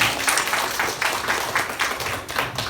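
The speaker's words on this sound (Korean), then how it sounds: "환영의 박수 부탁드립니다" A church congregation at a Sunday high-school worship service claps in welcome, a loud, close, somewhat uneven burst of hand claps.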